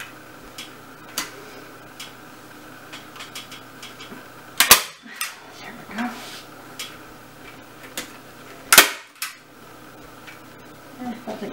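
Staple gun driving staples through fabric on a piano bench during reupholstering, firing several sharp, loud snaps at irregular intervals, with quieter clicks and handling taps between them.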